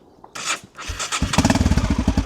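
A 1987 Honda XR600R enduro motorcycle's electric starter whirs briefly, then the engine catches and settles into a steady, throbbing idle, close and fairly loud.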